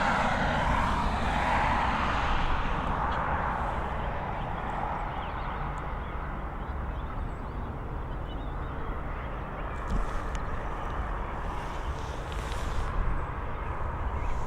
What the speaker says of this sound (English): There we go, touchdown coming in from Madrid. FR494, this Boeing 737 operated by Ryanair there.